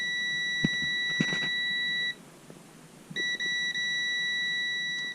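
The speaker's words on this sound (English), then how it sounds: "We're going to get a beep." Electrical continuity tester beeping during an earth continuity check on a circuit with a tripping RCD: a steady high-pitched tone held for about two seconds, a short silence, then the beep returns with brief dropouts.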